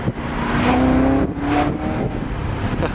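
A 1999 BMW E39 540i V8 revs up sharply twice, rising and falling in quick bursts, then settles back to a rumbling idle, heard up close with no talk.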